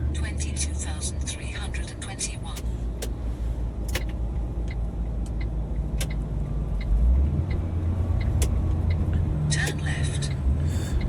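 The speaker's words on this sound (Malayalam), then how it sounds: "വണ്ടി കയറി വരുന്നുണ്ടേ." A vehicle climbs a snowy road, its engine growing louder and deeper in the second half, while people talk nearby and faint clicks and rattles come and go.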